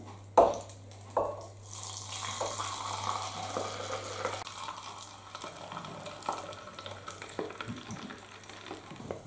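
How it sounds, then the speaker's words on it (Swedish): Melted suet-based bird food mixture is poured into cups in a home kitchen, giving a steady liquid pour and gloopy trickle with a few clinks at the start, moderately close and alone. "Nu häller vi upp till 3 koppar."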